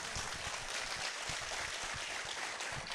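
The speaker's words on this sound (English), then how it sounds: "Round of applause, guys." Steady crowd applause at a Decathlon store event in Kottayam, a continuous wash of clapping at even loudness with no talking.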